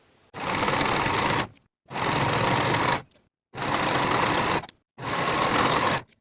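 A sewing machine finishing the raw edges of a dress's side seams runs in four steady, even bursts of roughly a second each, separated by short silent pauses, close and clear.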